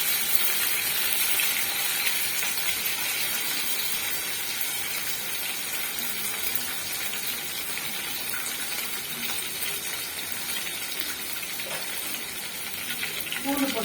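Garlic cloves fry in a pan with curry leaves for a Tamil garlic kuzhambu, giving a steady close sizzle and hiss with occasional small pops, continuous throughout.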